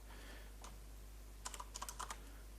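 A profile name is typed on a computer keyboard: a quick cluster of crisp key clicks, a couple of isolated taps first, then a rapid burst of about eight keystrokes, close and clear over a faint electrical hum.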